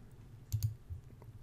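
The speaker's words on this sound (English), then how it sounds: "I'm going to use the Control C shortcut on the keyboard." A couple of quick, crisp keystrokes on a computer keyboard as the Control+C copy shortcut is pressed, close and clear over a quiet background.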